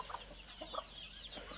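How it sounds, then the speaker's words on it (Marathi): Free-range village chickens and a rooster feed on moringa leaves, giving a few soft, scattered clucks that sound faint and a little distant, with no voices. "तिथे कोंबडा आहे बघा तो खातोय"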